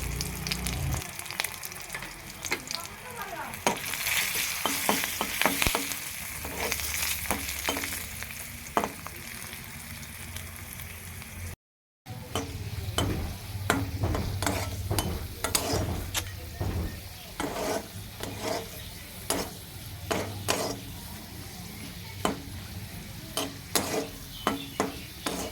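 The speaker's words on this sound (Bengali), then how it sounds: "এবার আমি 4টে শুকনো লঙ্কা আর কিছুটা রসুন কোয়া, তো চলো এগুলোকে এখন ভালো করে সুন্দর করে ভেজে নেব" Dried red chillies and garlic cloves frying in oil in a wok, a continuous bright sizzle with frequent scraping and clattering stirs, a brief dropout midway, no voices.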